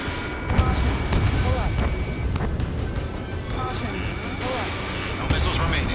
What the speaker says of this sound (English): Missile fired.